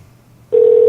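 Telephone tone sounds abruptly on a call to Dean, a single steady electronic tone switching on halfway through after a quiet, low hum, loud and close.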